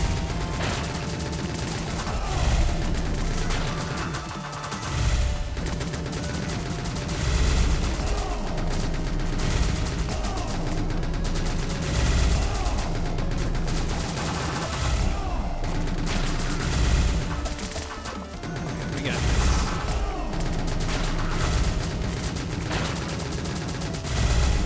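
The Contra gun firing in the video game Greedy Guns, a dense, continuous stream of loud shots with explosive impacts layered over busy game sound.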